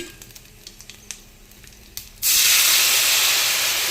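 Water is poured into a hot pan of fish curry with mustard seeds and curry leaves. Faint clicks and pops give way to a sudden loud, sustained sizzling hiss that carries on to the end.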